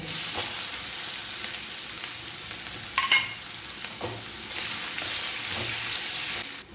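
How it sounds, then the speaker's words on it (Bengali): Nigella seeds and chopped onion fry in hot oil in a pan after aubergine pieces are taken out, giving a bright continuous sizzle with a few stirring scrapes, heard close with no talk. "এই তেলটার ওপর আমি কালো জিরে দেব আগে কালো জিরেটা একটু হয়ে গেলে আমি পেঁয়াজ কুচি দেবো"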